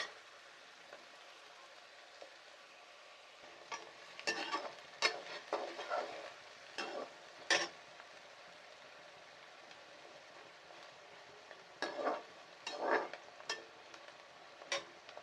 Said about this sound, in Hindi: अब इसे अच्छे से ब्राउन करेंगे, हम प्याज को अच्छे से पकाएंगे, फ्राई करेंगे अच्छे से।